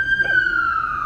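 A siren outside during a Friday worship service sounds as one steady wailing tone that slowly falls in pitch. It is moderately loud and a little distant, and a faint voice murmurs beneath it.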